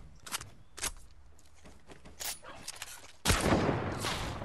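Gunfire in the video game Fortnite, a string of short sharp shots spaced across the moment, then a louder sustained burst of blasts near the end, with no talking over it.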